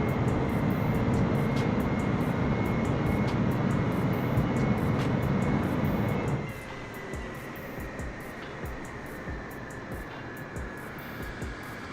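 A simulated airliner on its landing rollout roars loudly with thrust reversers deployed, a dense engine rush that drops sharply partway through to a quieter, steady whine, with faint clicks above.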